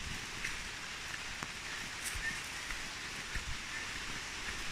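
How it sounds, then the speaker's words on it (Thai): Steady rain pattering on a surface at a mountain campsite, a constant soft hiss with occasional louder drops, no voices. "ฝนมาด้วยนะครับ"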